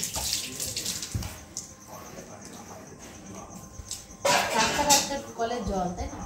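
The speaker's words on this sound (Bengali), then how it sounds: "কলের জল, তাই না?" Tap water running into a home sink, a steady hissing splash that surges louder near the end, mixed with brushing and rinsing sounds while someone talks.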